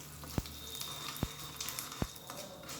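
Soft sizzling of curry leaves in a dal tempering, faint frying crackle with a few sharp pops spaced apart, quiet and close, no voices.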